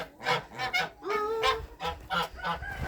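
Domestic geese honking close by in a farmyard poultry enclosure, a series of loud nasal calls in irregular bursts, several overlapping, with no talk over them.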